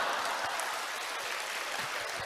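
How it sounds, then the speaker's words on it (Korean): An audience applauds at a lecture, a soft, even patter of many hands clapping that stays steady and somewhat distant throughout, with no voices over it. "이게 박수 칠 일입니까?"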